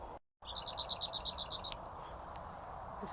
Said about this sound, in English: There's a bird skulking in here, which I'm not sure quite what it is.